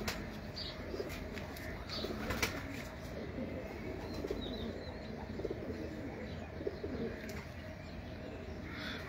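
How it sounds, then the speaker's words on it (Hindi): Racing pigeons at a loft give soft coos and faint chirps over a steady, noisy outdoor background, fairly distant and low in level with no clear talk. "कबूतर है।"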